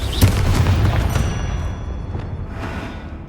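A Confringo blast spell explodes in the Hogwarts Legacy video game, a loud, deep booming burst up front that rolls off into a long fading rumble.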